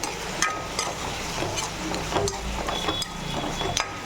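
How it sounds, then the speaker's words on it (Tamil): Raw banana pieces fry with salt in a pan, a soft steady sizzle broken by sharp clinks and scrapes of a utensil stirring against the metal. "அந்த வாழைக்காயை இதில் போட்டுக்கலாம் சரியான உப்பு போட்டுடலாம் அதையும் நல்லா வறுத்துக்கலாம்"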